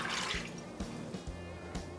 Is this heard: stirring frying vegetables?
no